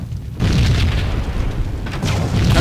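A deep, rumbling explosion in the video game Max Payne booms loudly, followed by sustained crackling roar and a second heavy burst.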